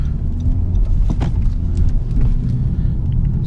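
A 2018 Honda Civic Si with a direct-injection engine pulls hard at full throttle, giving a loud, steady engine roar and low rumble heard from inside the car, with no talking.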